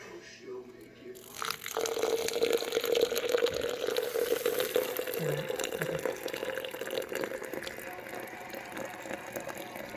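Hot water poured slowly over coffee grounds in a French press makes a close, steady trickle that starts after a brief quiet moment and continues evenly to the end.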